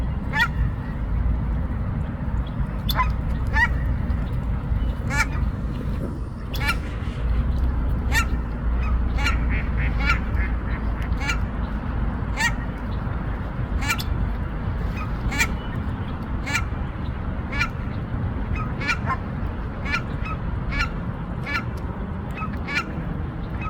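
Canada goose honking repeatedly, sharp separate calls scattered across the clip with no talk, over a steady low rumble of background noise.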